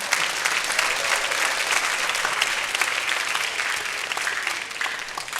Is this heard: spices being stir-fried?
no